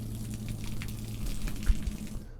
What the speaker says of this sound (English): Now I'm going to let the hot water heater drain out of all the water.